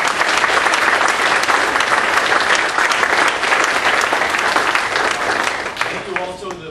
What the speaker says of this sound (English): If we could just have a round of applause for them.